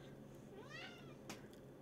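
A pet cat gives a short, rising meow close by indoors, followed by a brief sharper sound over faint room noise.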